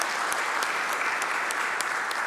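A conference audience at an industry festival applauds in memory of a recently deceased local author, a close, even wash of clapping with a few sharper claps standing out at regular moments.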